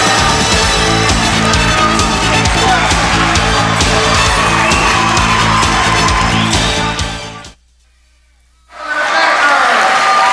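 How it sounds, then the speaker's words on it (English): A big indoor crowd at a 1997 District 29 high school wrestling meet at Gloucester County College cheers and yells loudly and steadily after a win, then cuts out briefly before returning at full volume. "crowd still loud, very loud after that win by Andy Vallejo."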